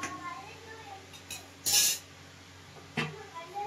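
A lid is set down over a pot of curry with one bright, short metallic clank, followed a moment later by a softer knock. People talk nearby, including a voice.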